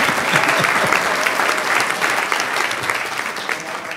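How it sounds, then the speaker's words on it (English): Sustained audience applause at a medical education forum, dense steady clapping from a large seated crowd filling the whole stretch, fairly loud and unbroken with no talk over it. "Give this gentleman a round of applause."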